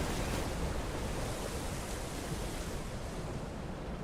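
Rushing water from a broken dam in the video game Outer Wilds, a steady broadband roar like heavy surf that holds at an even level throughout with no talk over it.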